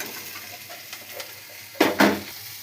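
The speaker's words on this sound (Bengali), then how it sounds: "ভেজে রাখা ডিমগুলো দিয়ে দেবো।" Chowmein with fried eggs being stirred in a pan over a soft sizzle, with two quick, close scraping strokes near the end.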